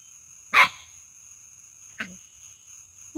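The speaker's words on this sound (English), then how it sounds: "What you barking at me for?" A dog called Hank gives a single sharp, loud bark close by, then a quieter second bark about a second and a half later, with faint insect chirps running through the background.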